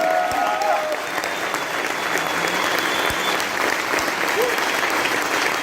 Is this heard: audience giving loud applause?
yes